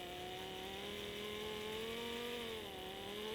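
An electric drill running at low speed to stir two-pack paint, a steady whining motor hum that holds an even pitch and dips briefly toward the end, close and continuous with no talking.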